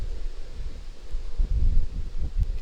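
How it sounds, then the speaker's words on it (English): Wind buffets an outdoor microphone on a very windy day during outdoor wok cooking, low rumbling gusts swelling and fading, with no talk. "It is a very windy day."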